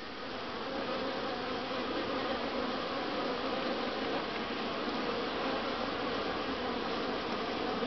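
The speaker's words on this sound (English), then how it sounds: "that's a busy entrance and exit" A thick, unbroken hum of many honey bees comes from a crowded hive entrance as they fly in and out, loud and close with no voices.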